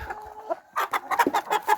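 An Orlov chintz rooster, a tall, long-legged bird, clucks in a rapid series of close, loud calls in a farmyard, starting with a few softer notes.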